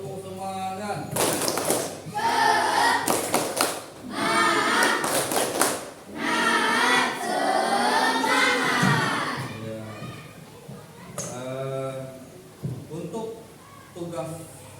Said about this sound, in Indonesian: biar lebih semangat lagi kita tepuk semangat